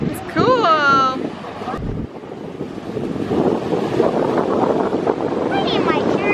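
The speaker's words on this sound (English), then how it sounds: "It's getting windy." Steady wind buffets the microphone on a beach at Stump Pass in Englewood, Florida, a continuous close rumble with a voice speaking briefly over it.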